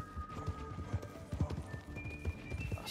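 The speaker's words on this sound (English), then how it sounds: "Oh, this horse is a lot faster than Penelope." Rapid clip-clop of a video game horse's galloping hooves in a steady rhythm, with a faint whinny and soft tonal music layered over it.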